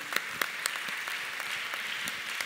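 Church congregation applauding the Lord during a Tuesday evening Presbyterian service, a steady dense clapping wash with a few sharper louder claps standing out, no speech over it.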